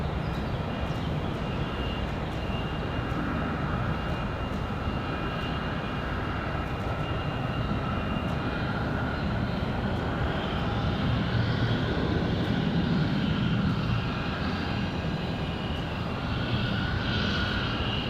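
Airbus A320 jet airliner taking off from Raleigh-Durham International on a windy day, a steady broadband engine roar holding loud and unbroken throughout with no talk.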